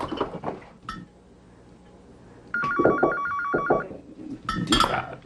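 A telephone rings indoors with a repeated electronic trill in two bursts, close and clear, surrounded by clinks of bottles and dishes. No voices are heard.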